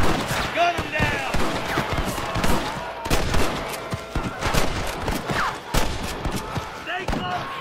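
Gunfire rattles through a Red Dead Redemption shootout: dense, overlapping volleys of sharp shots and bursts, loud and close, with voices shouting over the fighting.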